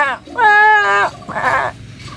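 A human voice imitates a goat bleating: one long, wavering, nasal bleat followed by a shorter, rougher second call, loud and close with no other sounds.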